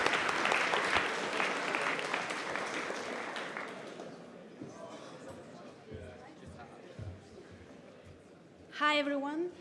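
A hackathon opening ceremony audience applauds for about four seconds, the clapping fading into quiet murmurs and chatter before a speaker's voice briefly begins.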